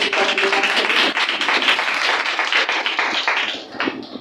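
A worship congregation at a Sunday service in New Delhi claps together in dense, sustained applause, many hands overlapping loudly and continuously before thinning slightly at the end.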